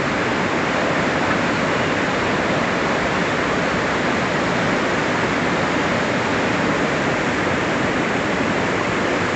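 Waterfall on the Brecon Beacons four falls trail, a dense, steady roar of falling water that stays close and loud without a break and drowns out everything else.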